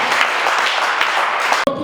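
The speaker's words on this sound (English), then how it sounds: "Can you clap for the" Audience applause at a Mwaghavul cultural symposium in Mangu, a dense continuous wash of clapping from a crowd, steady and fairly loud, cutting off abruptly near the end.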